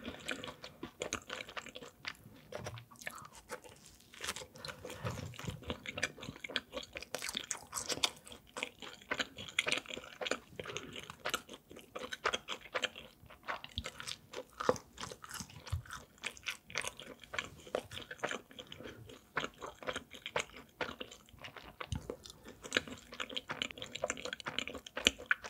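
Close, crisp chewing and biting on Pizza School butter garlic pizza, continuous crunchy mouth sounds and munching for the whole stretch without speech.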